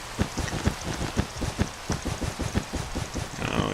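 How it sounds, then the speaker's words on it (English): Rain falling in the video game Minecraft, a steady patter of rapid, evenly spaced drops heard close and alone over a few seconds. "Damn rain."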